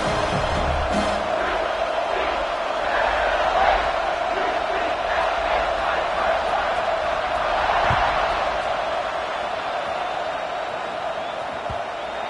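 A stadium crowd cheers in the NCAA 26 college football video game, a steady dense roar that holds at an even level throughout.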